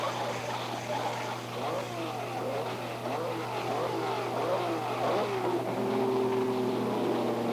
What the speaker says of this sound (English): the all-powerful Jack Brabham, whose roaring first-place Brabham Repco is undulating like a merry surfboard around the final laps of Canada's first World Championship Grand Prix motor race